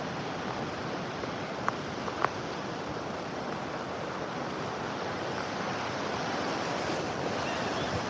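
Ocean waves roll onto Daytona Beach in a steady, soft wash of surf with light wind, continuous and fairly distant, with no voices over it.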